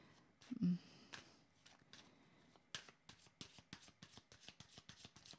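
Tarot cards being shuffled by hand to draw a card: soft, close riffles and slaps come after a quiet start, then a steady rhythmic run of crisp card taps.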